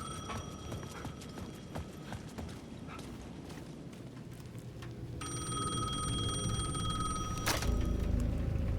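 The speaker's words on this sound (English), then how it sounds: "The payphone at the edge of the plaza was ringing again." Payphone at the edge of a plaza ringing in the video game Alan Wake 2, a steady electronic ring entering midway over a busy ambient game soundscape with footstep-like clatter.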